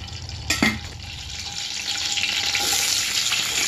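Chopped onions, about 100 grams, sizzling in hot oil for chicken pakoda curry, with a steady frying hiss that swells a little as they cook and a brief clatter near the start, no talking.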